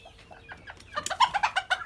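A rooster crows up close, a rising run of loud, harsh calls breaking into sharp bursts.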